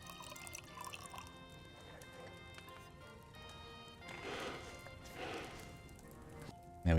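An alchemy bench in Kingdom Come Deliverance 2 bubbles and drips softly as a potion distills, quiet watery trickles and gurgles over faint background music, ending in a sudden louder clunk.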